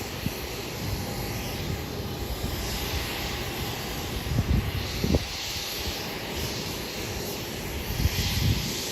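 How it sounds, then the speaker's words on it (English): An Alaska SkyWest airliner taxiing toward the runway at Hollywood Burbank Airport, heard as a steady, fairly loud engine roar and whine with a few brief bumps, continuous from start to end and without speech. "Alaska SkyWest now taxiing to the runway."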